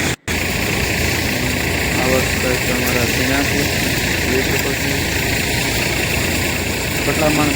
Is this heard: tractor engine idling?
yes